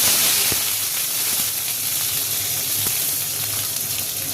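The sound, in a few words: onions frying in hot oil in a wok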